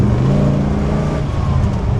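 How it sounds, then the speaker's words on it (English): A 1957 Pontiac Chieftain resto-mod cruises along, its exhaust a low, steady rumble blended with road and engine drone inside the car, smooth and unstrained throughout. "I don't know if you can hear the exhaust."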